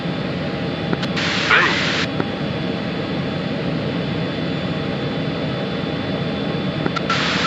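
A fighter jet afterburner in a flight simulator video game produces a continuous loud broadband roar, with brief bursts of radio-like noise on top.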